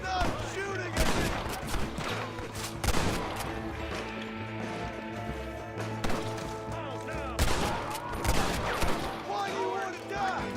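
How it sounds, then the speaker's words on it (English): Red Dead Redemption gunfire cracks in repeated loud shots and short volleys, scattered irregularly across the scene, while voices and other game sounds fill the spaces between them. "Stop shooting at me!"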